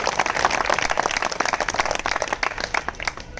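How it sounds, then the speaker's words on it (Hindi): Audience applause at a rally, a dense continuous burst of many hands clapping that runs steadily throughout and tapers slightly at the end, with no talk over it. "आप लोगों की तालियों की गड़गड़ाहट"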